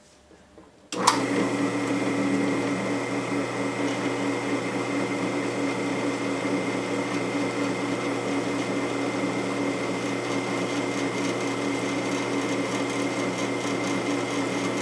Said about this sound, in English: it seems to be drilling okay